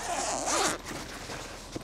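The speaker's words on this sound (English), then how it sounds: "Is that the zipper?" A zipper on a waterproof drone backpack is pulled open in one long, close, rasping stroke, followed by quieter fumbling with the fabric.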